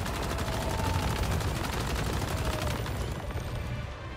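Rapid gunfire from a fast-firing gunner build in the Once Human video game, shooting at enemies during a Forsaken Giant fight. The burst runs dense and continuous for several seconds amid loud game effects.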